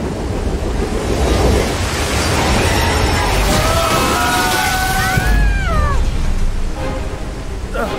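The Thief's Downfall waterfall in the Harry Potter and the Deathly Hallows Part 2 PC game roars as a loud, constant broadband rush, with brief gliding wailing cries rising over it midway.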